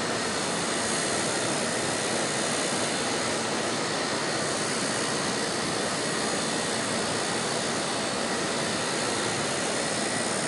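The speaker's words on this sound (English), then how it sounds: "This is my fourth battery in this helicopter." Steady, high-pitched whine of a small electric six-channel collective-pitch model helicopter hovering nearby, continuous and unchanging with a broad rushing drone.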